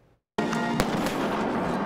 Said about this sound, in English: Fireworks before the game